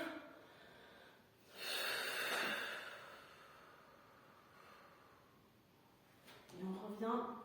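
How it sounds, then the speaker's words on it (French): A person breathing in audibly through the nose during a mobility exercise routine, a soft rushing inhale near the mic, with quiet background hiss and a faint voice-like sound at the end. "J'inspire."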